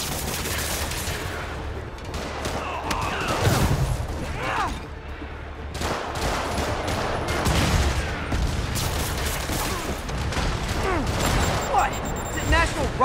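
Rockets and gunfire in the Spider-Man Remastered game burst out in rapid, loud volleys with booming impacts, running continuously under character voices speaking.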